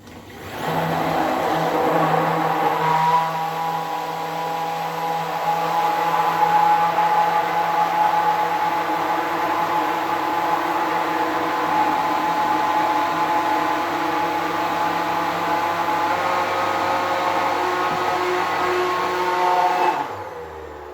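An electric mixer beats batter with sugar and vanilla extract, running as a steady, loud motor whine for about twenty seconds and cutting off cleanly at the end.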